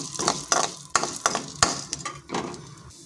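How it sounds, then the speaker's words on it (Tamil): Chana dal (split chickpeas) is dry-roasted in a pan while a spoon stirs it, making rapid rhythmic scraping and rattling with a light sizzle underneath, close and fairly loud. "கடலப்பருப்பை நல்லா வறுத்து விட்டுக்கோங்க"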